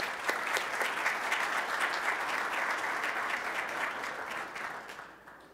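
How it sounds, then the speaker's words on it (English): Audience applause at a school district's evening ceremony, a dense, sustained clapping from a large crowd that holds steady for several seconds and then tapers off toward the end. "Let's give a big round of applause for Victor Dobrinsky."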